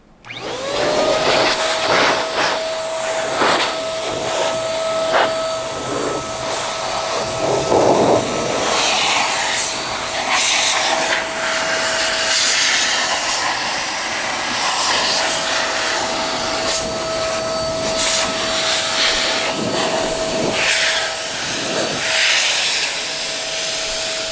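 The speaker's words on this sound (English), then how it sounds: "just blow all of that grittiness, dirt, pollen to the carpet down to the lowest point where I can vac it later" Air blower driving grit, dirt and pollen out of a car seat toward the carpet during interior detailing: a steady, loud, close whooshing roar with a constant high whine running throughout.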